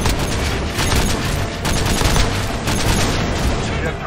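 Heavy gunfire from sniper rifles and other weapons fills a battle in the video game Call of Duty: Modern Warfare 2, with loud, dense overlapping shots and booms from start to finish.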